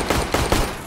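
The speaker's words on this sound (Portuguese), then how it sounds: "eu dei muito tiro no maluco" A rapid burst of gunfire, several loud shots in quick succession, dense and close with no voices.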